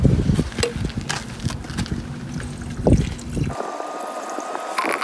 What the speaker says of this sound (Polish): Dolejemy do silnika.